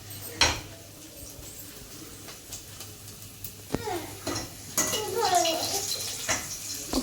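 Oil sizzles in a tilted kadai while the tadka is tempered, with sharp clinks of a spoon against the metal and bursts of frying that swell toward the end, close by and moderately loud.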